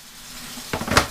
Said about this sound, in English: Any residual, you can swirl it with some water.